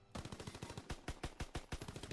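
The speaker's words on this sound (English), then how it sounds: "You're shooting your gun while you're spinning." Rapid automatic gunfire in a WWII shooter game, a fast steady stream of sharp shots with a few heavier reports, fairly quiet overall with no talking.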